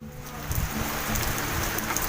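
Steady rain falling continuously, a dense even hiss of drops with a few soft low rumbles underneath, close by and moderately loud, with no voices.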